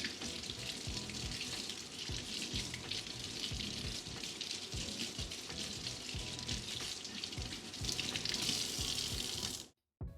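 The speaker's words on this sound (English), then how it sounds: "I'm just going to wash the dirt off under some cool water" Cool tap water runs and splashes as green onions are rinsed under it, a close, steady hiss broken by irregular spatters and drips, cutting off sharply at the end.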